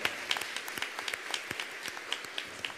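An audience at a talk by a Catholic priest applauds, giving a continuous, moderately distant patter of clapping with scattered sharper claps throughout.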